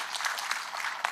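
A crowd claps at an outdoor public security forum in Siaya County, a brief spell of brisk, scattered applause at moderate volume with no voices over it.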